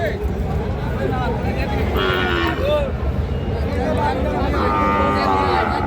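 Sahiwal cattle at a busy livestock market give a few drawn-out moos over continuous crowd babble, with people talking and haggling nearby throughout.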